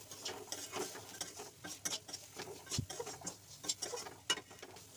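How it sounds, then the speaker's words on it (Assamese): Spices with turmeric and salt frying in a pan for Assamese fish head curry, heard as faint, soft crackling and irregular spatula taps and scrapes. "এতিয়া এইখিনি ভালদৰে ভাজিম।"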